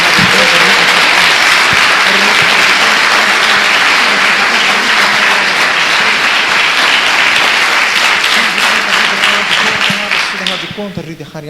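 A church congregation applauds in praise, a loud, sustained roar of many hands clapping that holds for about ten seconds before thinning and fading, with voices under it.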